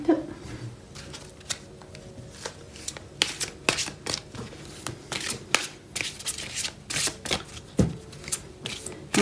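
Large tarot-style cards, stiff and somewhat hard to shuffle, are riffled and slid together by hand. The papery flutters and taps come in irregular bursts, fairly close and mostly on their own, with only faint background.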